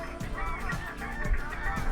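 Waterbirds honking and calling near a water bed in the Little Rann of Kutch, a dense, continuous chorus of goose-like cries and squawks at moderate distance, faint overall.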